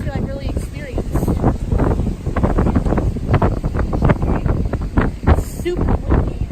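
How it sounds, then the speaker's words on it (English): Strong wind at a Daytona beach buffets the microphone in a steady, loud roar throughout, with rough gusty rumble and faint voices underneath. "It's super windy."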